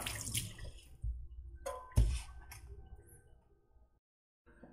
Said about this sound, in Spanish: pues a esta sí le mojo bien sus hojitas para que quede bonita y comenzamos a regar